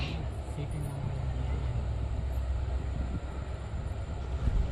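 A passenger train rolling onward after departing Bagalkot station in Karnataka, heard from inside as a steady, continuous rumble of wheels and carriage noise with no break.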